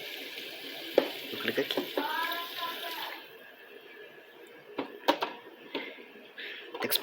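Water rushing steadily into a Hippo Super Hippor 12 kg washing machine, with scattered clicks and knocks on top, while a person talks nearby.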